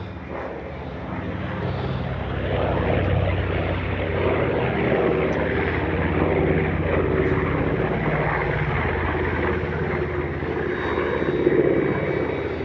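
An FMS 1400 mm Pitts V2 radio-controlled model biplane on its maiden flight, its propeller buzz holding steady and swelling slightly as it passes, heard from the ground at moderate distance.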